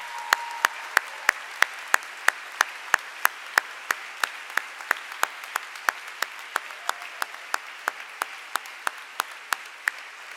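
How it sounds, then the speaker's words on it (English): Graduates at a university convocation ceremony receive sustained applause from a seated audience: a steady wash of many hands clapping, with sharp regular clicks throughout and no voices over it. "Let's all give them a round of applause."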